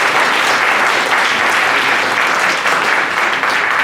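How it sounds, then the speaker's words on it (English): A crowd claps loudly and continuously, steady applause filling the room without letup. "A round of applause, please."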